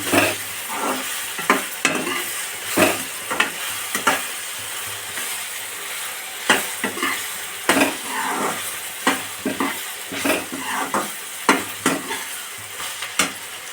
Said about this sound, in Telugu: బాగా ఇలా కలబెడతా ఉండాలి